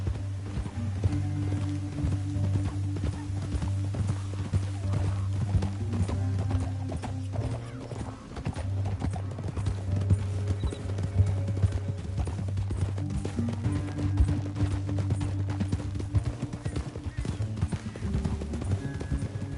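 Steady, rapid hoofbeats of galloping horses in Red Dead Redemption II pound on without a break over a low rumbling backdrop, with no voices.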